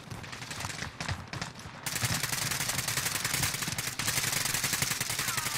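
Video game gunfire rattles in rapid automatic bursts, dense and loud throughout, starting choppy and then becoming a continuous stream of shots.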